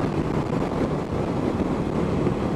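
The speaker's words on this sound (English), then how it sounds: "It's wind's blowing me, you know, 30 mile per hour gust." Steady wind roar buffets the microphone while riding a 2016 Indian Scout Sixty motorcycle at highway speed in 30 mph gusts, a loud continuous broadband rush with no talk.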